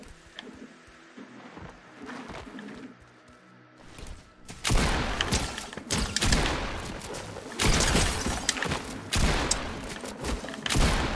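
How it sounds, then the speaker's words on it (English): Shotgun fire in Fortnite: after a quieter start with scattered game noises, loud booming shots and gunfire burst in at about four and a half seconds and keep hitting in clusters to the end. "He's trying to use a shotgun on me."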